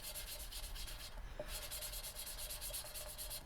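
Engine valves on a MK4 Ford Transit being lapped into their seats by hand with coarse grinding paste, a steady gritty rasping and rubbing that runs continuously at close range with no talk.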